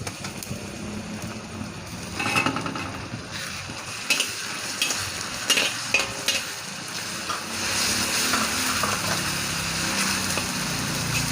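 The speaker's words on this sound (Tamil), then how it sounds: "வெங்காயம் இந்த பதம் வதங்கினதுக்கப்புறமா இஞ்சி பூண்டு விழுது சேர்த்துக்கலாம்." Sliced onion sautéed with ginger-garlic paste in a pan, a close, steady sizzle broken by several sharp scrapes and clinks of a spoon against the metal, with no voices.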